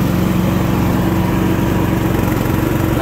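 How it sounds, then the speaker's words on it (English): A Sears Craftsman hydrostatic riding mower with a tired Briggs 15hp engine runs at a steady, loud drone, close by and alone, its hum unbroken for the whole stretch. "The engine's starting to get tired, but you see there, it's still charging."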